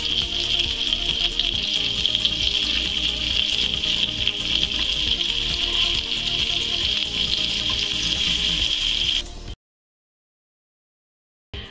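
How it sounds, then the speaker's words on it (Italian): Chicken breast rolls cooking in a pan over low heat, giving a steady, close, even sizzle with fine crackling that continues without talk until it cuts off abruptly near the end. "far cuocere i nostri rotolini di pollo gustosi a fiamma bassa, rigirandoli più volte per consentire di cuocersi da tutti i lati"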